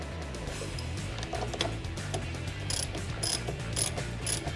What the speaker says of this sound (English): and tighten the terminal.